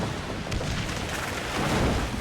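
Ship cannons of a sailing warship in Assassin's Creed IV: Black Flag fire in a quick run of deep booms, loud and close, with rumbling noise and faint shouts mixed in.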